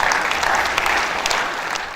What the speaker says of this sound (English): The warm applause is at the second page.